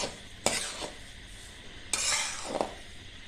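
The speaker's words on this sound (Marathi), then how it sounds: "आता हे आपल्याला रव्याबरोबर भाजत भाजत राहायचं" A spoon scrapes and stirs through semolina and grated coconut roasting in a pan, three brisk sweeps over a faint sizzle, no talking.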